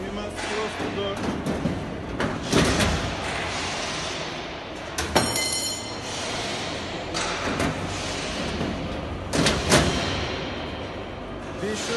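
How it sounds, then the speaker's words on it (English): A metal door on a medium-voltage load-break switchgear input cubicle is swung shut, giving several loud thuds and clanks spread through the clip over steady background noise. "Firstly, you must close the door."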